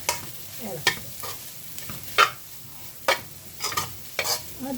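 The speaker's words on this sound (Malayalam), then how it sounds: "നമുക്കിതെല്ലാം നല്ലപോലെ ഇളക്കും" Chicken spring roll filling with garam masala being stirred in a hot pan, spoon scrapes landing in irregular bursts over a soft, steady sizzle.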